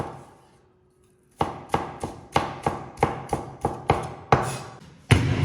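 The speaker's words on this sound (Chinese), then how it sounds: "首先呢，我们把姜给它切成片，把葱呢给它切成葱花" A kitchen knife chops ginger into slices and scallions on a board: after a brief quiet start, about ten sharp, close knocks fall in a steady rhythm, roughly two per second, with no talking.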